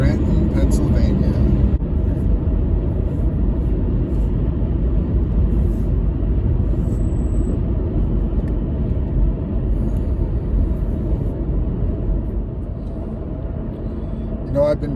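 A car drives along a highway through the Poconos toward Scranton, Pennsylvania, giving a steady low road rumble and engine drone that continues without a break for the whole stretch, with a faint voice heard in the first few seconds.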